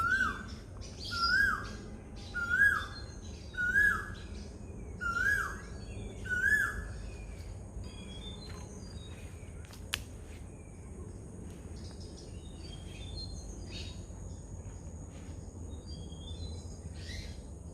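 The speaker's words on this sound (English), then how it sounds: "just listen to the birds." Birds sing outdoors at Pajar Talao, Vasind, a repeated rising call sounding about six times in a steady rhythm, with softer chirps and twitters continuing afterward against a quiet background.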